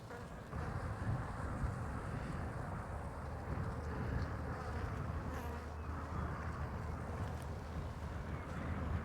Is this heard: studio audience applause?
no